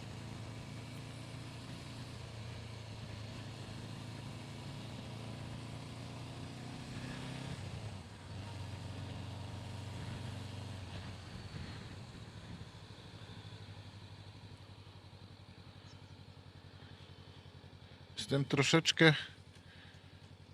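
A rented Honda motorcycle engine hums steadily at a low, even pitch while someone talks over it, ending with a brief loud rustle; riding out of Funchal, Madeira.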